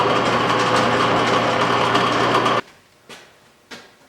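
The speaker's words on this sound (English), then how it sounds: "the noise coming from the speeds and feeds gearbox is just the gears meshing inside there" Straight-cut gears meshing inside the speeds and feeds gearbox of a Monarch lathe, a steady loud mechanical whir and hum that cuts off abruptly, followed by two faint brief clunks.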